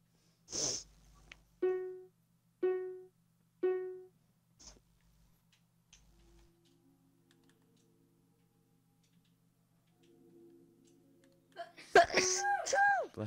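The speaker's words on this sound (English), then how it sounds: "You're gonna sneeze over the entire video." A man's hay-fever sneeze bursts out sharply at the start, followed by a few soft rhythmic clicks and quiet background noise, then voices break in near the end.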